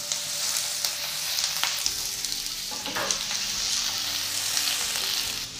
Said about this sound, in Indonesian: Jahe bawang putih tumis harum ya teman-teman, lalu masukkan ini ya sayuran.